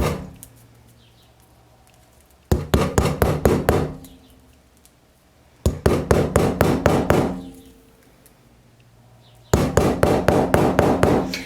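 A hammer and nail punch holes through a tin can filled with ice, coming in three bursts of about seven quick, sharp metallic taps each, separated by pauses, close and loud with no talk.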